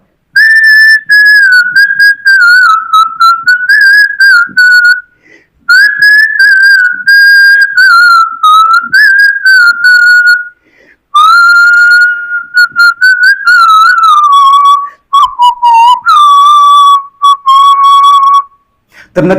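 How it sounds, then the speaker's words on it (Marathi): A person whistles a song loud and close, sustained melodic phrases with wavering pitch broken by short pauses, alone with no talk. "मी शिट्टीतून गाणं म्हणून दाखवणार"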